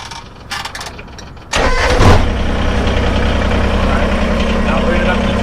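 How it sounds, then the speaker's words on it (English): A Kubota BX23S tractor engine turns over and catches, then settles into a loud, steady diesel idle right up close, with a brief rev as it starts. "start the tractor."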